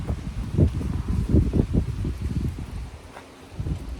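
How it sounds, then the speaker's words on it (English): Wind blows outdoors behind a house, sending low, uneven gusts against the microphone that rise and fall in several rough bursts, with no one talking. "So at the back, it's a little bit windy now"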